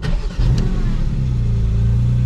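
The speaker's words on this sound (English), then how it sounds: "obviously the car fires up. Beautiful, beautiful sound." A Porsche GT4 RS Weissach fires up with a loud starter catch, then its engine settles into a steady, strong idle close by, with no talk.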